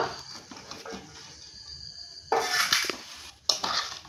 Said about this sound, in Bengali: আমগুলো দিয়ে খুব ভালো করে এই মশলার সঙ্গে মিশিয়ে নিতে হবে।